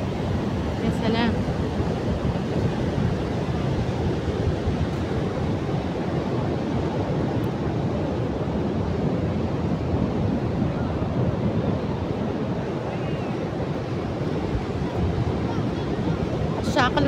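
Sea waves washing onto the shore as a steady, loud roar of surf with wind buffeting the microphone throughout, no distinct breaks standing out.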